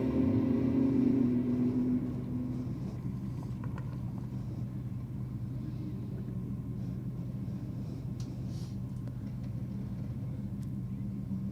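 BMW drag racing car at Sydney Dragway: a strong engine roar at the start settles into a continuous, more distant rumble.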